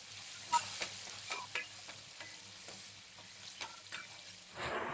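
Previously fried eggs stir-fried in a pan with Kashmiri chili powder, sugar and green chilies for egg fried rice, a faint steady sizzle broken by a series of soft spatula scrapes and taps, with no talking.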